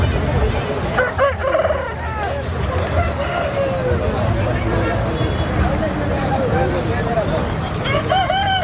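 Aseel fighter chickens crowd a busy poultry market near Bangalore, with roosters crowing and birds clucking continuously over dense crowd chatter and steady background noise.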